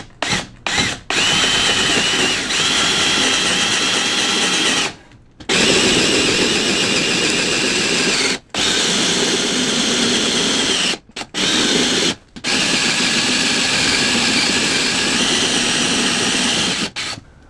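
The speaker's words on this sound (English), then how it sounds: "So I'm just going to do it with a hand drill." Loud whine of a handheld power drill boring into wood with a Forstner bit, running in long sustained bursts separated by brief pauses, close up.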